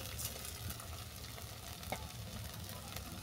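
Spices frying for a mushroom curry, heard as a low, steady sizzle with soft stirring scrapes under it, quiet and even throughout.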